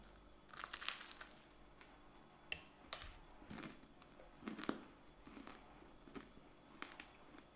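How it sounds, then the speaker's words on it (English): Close, quiet crunching and chewing of a medieval honey-and-spice treat, irregular crisp bites and moist mouth sounds spaced over several seconds with no speech. "crunching and chewing"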